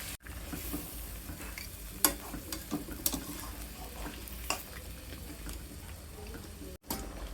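Giant freshwater prawns frying in a mustard-coconut spice paste, a quiet steady sizzle with scattered clicks and scrapes of a stirring spoon against the pan, close and faint.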